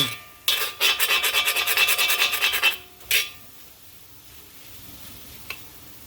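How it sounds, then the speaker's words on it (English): A utensil scrapes browned fond off the bottom of a pan after tomatoes go in for a coconut chicken curry, a rapid rasping burst for about two seconds, a short second scrape, then a quiet simmer. "Get the fond off the pan."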